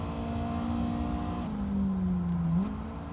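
A race car engine in Gran Turismo 7 on the short Suzuka layout holds a steady droning tone, then dips and climbs again as it shifts, continuous and fairly close.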